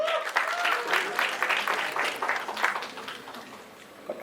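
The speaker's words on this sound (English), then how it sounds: "can we have a big round of applause for Satyaraj sir?" Audience applause at a film trailer launch event, a crowd clapping strongly that tapers off gradually over about four seconds, with faint voices mixed in.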